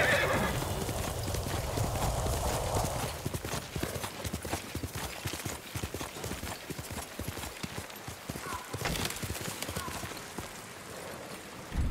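Horses galloping in the samurai video game Ghost of Tsushima: rapid, loud hoof clip-clops drumming steadily throughout, opening with a whinny and loud battle noise, with other sounds mixed in.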